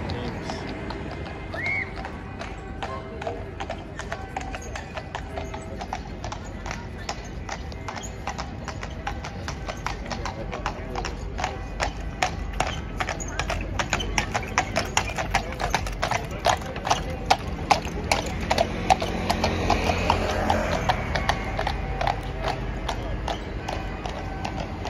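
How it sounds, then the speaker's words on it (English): A horse-drawn carriage rolls through London near Westminster Abbey, hooves clip-clopping in a steady, close rhythm that grows slightly louder, with street noise behind and faint talk at times. "there's a horse and carriage ride"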